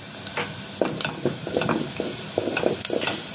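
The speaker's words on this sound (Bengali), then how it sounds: "এগুলো আমার ফ্রাই হচ্ছে, ভালো দেখে আসতেছে।" Ingredients for a papaya and chicken curry sizzle in a pan, with repeated close scrapes and stirring strokes in an irregular rhythm over a constant frying hiss.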